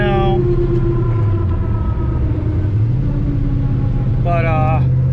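A 1000 rwhp drag car rumbles along a street, its deep, loud engine drone steady throughout with a brief higher-pitched rev near the end, while someone talks over it.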